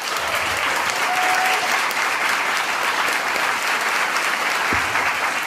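A large audience at a Czech talk event applauds steadily and loudly, a dense continuous wash of clapping that holds at full strength without any voices over it.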